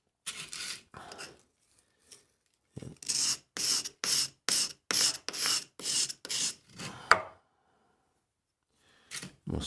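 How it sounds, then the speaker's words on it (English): An Allen key carving tool is honed on a 400-600 grit simulated sharpening stone, giving a series of rhythmic rasping strokes, close and fairly quiet, with pauses between runs of strokes. "Now, I'm going to bring my next grade of stone. This is also a simulated stone, but this is probably between 400 and 600 grit."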